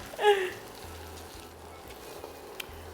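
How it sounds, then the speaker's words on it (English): Vegetables and pigtail frying in a pot for ochro rice give off a faint, steady sizzle, with a short louder crackle near the start. "we fry up everything really good there"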